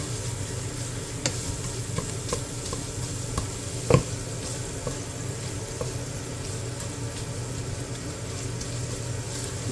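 Ground pork browns in a pan, giving a steady close sizzle with scattered scraping stirs and one sharp clack from a utensil partway through, with no voices.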